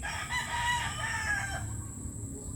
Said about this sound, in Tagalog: labuyo hindi yan bantam ha ah